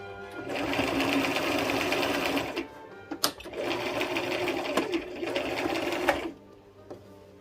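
A sewing machine stitches a heart shape onto a fabric pocket pillow cover, running in two steady bursts with a short pause and a few clicks between them as the needle pivots, then stopping.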